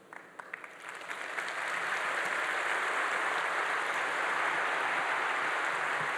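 Audience applause at a talk in Mexico rises from a few scattered claps into a dense, steady ovation that fills the room and holds loud to the end.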